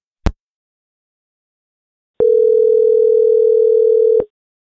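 A phone line after the caller hangs up: a sharp click, a short silence, then a steady electronic tone that holds for about two seconds before cutting off.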